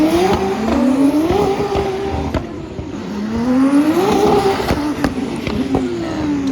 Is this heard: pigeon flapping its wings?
no